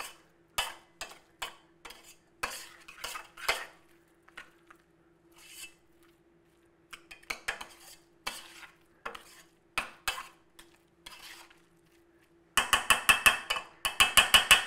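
Smoked gouda garlic mashed potatoes being mixed with a spoon, making irregular bursts of clicking, scraping strokes with short pauses between them, ending in a fast, dense run of rhythmic scrapes.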